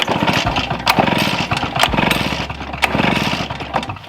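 A small two-stroke lawn equipment engine with carb and tank drained coughs and sputters unevenly, with rapid firing bursts broken by gaps and sharp pops, close and loud, without talk.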